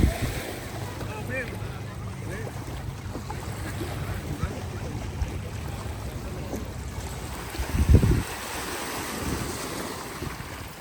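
Water washing against a lake shore in a park at dusk, a steady broad wash of small waves with wind noise, a brief louder surge near the end.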